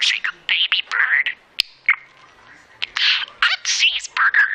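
A pet bird chirps and tweets in quick bright bursts, close and loud, with brief gaps and a sharp click between calls.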